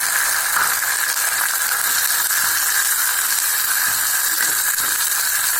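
Tomatoes sautéing in a pan for Tamil pulikuzhambu, giving a steady close sizzle and hiss with faint rattling of the pan, continuous throughout with no talking.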